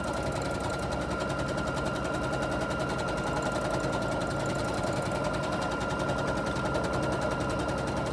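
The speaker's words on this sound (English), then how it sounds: "you just do a continual row of stitching" Sewing machine running steadily in free-motion quilting, stitching a continuous stippling pattern with a fast, even mechanical rattle that stays constant and close throughout.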